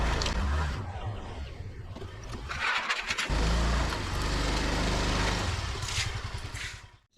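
Car interior sound during a ride through suburban Thailand: steady low engine and road rumble throughout, with a brief engine rise and dip midway before fading at the end, no talking.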